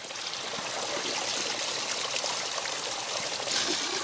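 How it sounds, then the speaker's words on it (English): Water trickles and drips steadily out of a soaked bushcraft container at a wild camp in the Scottish Borders, a close, continuous running patter with no speech. "it'll just drip the water out nicely"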